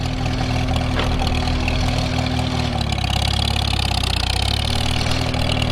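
An M&W 9-speed transmission tractor with a new carburetor runs steadily in overdrive first gear, a loud, continuous low engine drone with a slight shift in tone partway through, and no talking.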